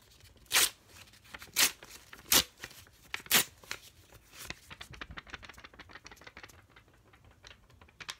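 Sheets of paper ripped up close, with four loud separate tears followed by a run of quicker, softer rustling rips, crisp and isolated in a quiet room.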